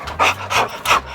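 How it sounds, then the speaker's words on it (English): Heavy panting breaths, three loud rhythmic bursts in quick succession, close to the microphone with no other sound. "Heavy breathing."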